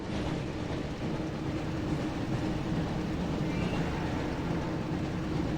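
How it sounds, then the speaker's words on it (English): A train rumbles along in the PS1 video game Harry Potter and the Chamber of Secrets, a continuous low, steady rolling drone heard alone without talk. "now we've got to Looks like we found the train. follow a train."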